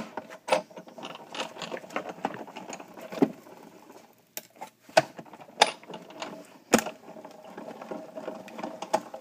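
An electronic cutting machine runs a cutting plate through, slicing sticky Shrinky Dink shrink plastic paper with a busy mechanical whirring, ratcheting and tapping, including several sharp clacks, close and steady throughout.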